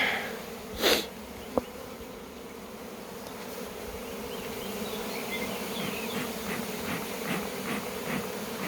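A swarm of honeybees hums steadily in an open-air April setting, a dense continuous drone at moderate distance with brief closer buzzes of individual bees passing by.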